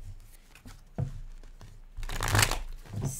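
A deck of tarot cards being shuffled in a few quick riffling bursts, close and moderately loud, with a denser flurry near the end.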